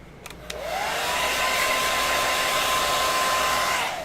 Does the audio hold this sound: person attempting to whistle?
no